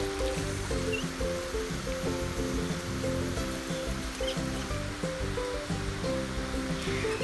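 A fast-flowing forest stream swollen after heavy rain rushes in a constant, loud wash of water, with steady musical tones playing over it.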